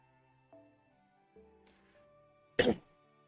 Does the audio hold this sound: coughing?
yes